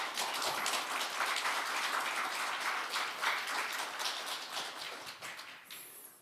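A seated audience at a kindergarten-themed book concert claps to welcome a guest. The dense applause is fairly faint, continues throughout and fades away at the end.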